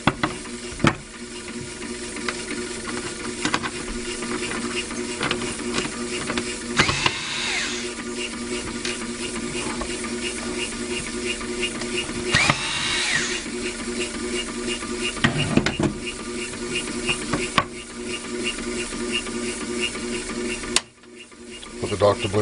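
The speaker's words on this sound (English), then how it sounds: "Now we're going to remove the doctor blade. These two screws here." Small screws are worked loose from the doctor blade of an HP LaserJet toner cartridge, giving a steady run of fine ratcheting, scraping clicks and handling noises, close up, with no voices.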